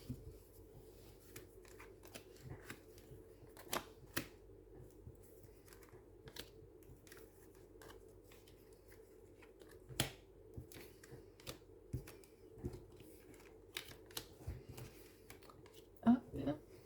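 Tarot cards are gathered and shuffled in soft, close rustles and sharp taps scattered across a quiet room, with light handling noises between.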